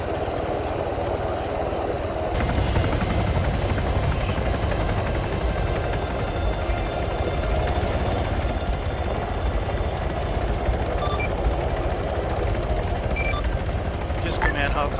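A military helicopter in a video game thunders steadily at close range, its rotor chop continuous and loud throughout, with muffled radio voices under the engine noise.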